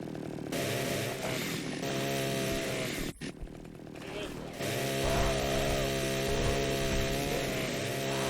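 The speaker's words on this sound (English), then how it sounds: "good to see our chainsaw went through the portal with us" A chainsaw in the video game Splatterhouse Part 3 buzzes loudly and continuously with a harsh, tonal engine whine, briefly cutting out once before roaring back.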